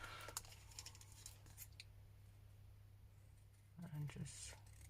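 Scissors snip the edge off a sheet of folded paper being trimmed into craft tags, a couple of short close cuts near the end after a quiet stretch with a steady low hum.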